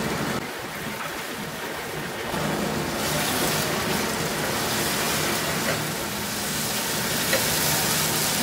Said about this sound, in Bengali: মাঝারি ফ্লেমে একটু বেশি সময় ধরে আমি ভুনে নেব বাদামটাকে